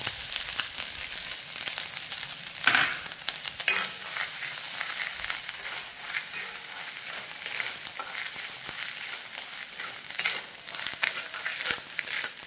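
Grated coconut with green chillies and grated ginger frying in a pan, a steady close sizzle with scraping stirring strokes and occasional clinks of the spoon against the pan throughout.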